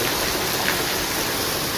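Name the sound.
rain falling outside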